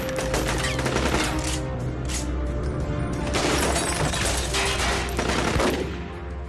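A fusillade of gunfire from several shooters rattles loud and dense, with rapid bursts and cracking shots layered over a rumbling bed and no talking.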